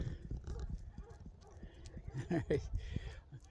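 Neighbor's horses moving about outdoors, with soft hoof clops and shuffling near and far alongside low rustling, while a voice talks nearby.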